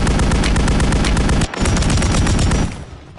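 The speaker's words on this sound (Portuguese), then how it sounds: "Trocou tiro do cara." Heavy automatic gunfire in a Call of Duty Warzone match on Rebirth Island, a loud, dense stream of rapid shots that stops briefly, resumes, then tapers off toward the end.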